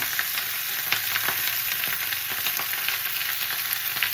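Chopped onion and tomato hit hot oil in a frying pan for a Kachki fish jhal chochori, giving a steady close sizzle with small scattered crackles and no voices.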